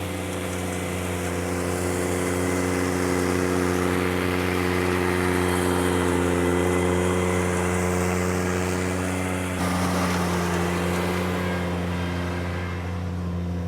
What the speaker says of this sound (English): We typically don't have any trouble pulling this flail with this 37 horse Kubota engine.